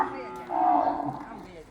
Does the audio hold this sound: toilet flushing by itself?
no